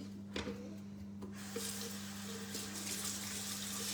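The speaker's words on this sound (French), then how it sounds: "Je vais juste rincer mon moule." Tap water runs as a baking mould is rinsed in a kitchen sink, a soft steady splashing that thickens partway through, with a constant low electrical hum beneath and no talk.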